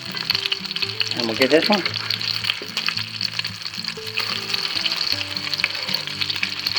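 Cheesy chicken ranch patties fry in a hot pan with a steady, close sizzle, and a brief spatula scrape marks the flip while someone talks over the frying.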